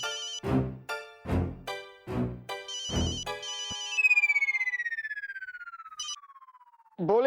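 A phone ringtone plays several short melodic bursts while redialing, then a long falling synthetic tone sweeps downward before a brief chirp at the end.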